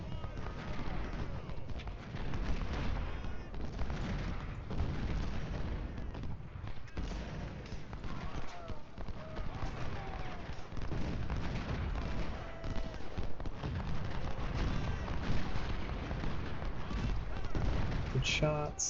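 Civil War battle sounds from the strategy game Ultimate General play continuously: dense rifle volleys and booming artillery rumble at a moderate distance, with indistinct voices mixed into the steady din.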